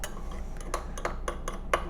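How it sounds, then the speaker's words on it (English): Spoon stirring instant coffee with two teaspoons of boiling water into a paste in a cup, making a few light clinks and scrapes spread across a couple of seconds. "And we're just mixing it together, kind of making a little bit of a paste."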